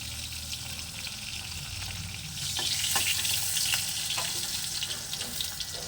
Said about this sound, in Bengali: এবার মাথার এই যে খোলাগুলো ওগুলো ভেজে নিচ্ছি